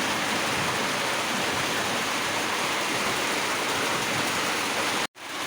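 Steady, loud rain pouring down during a rainy-season storm, a dense continuous hiss with no voices, cutting off abruptly near the end.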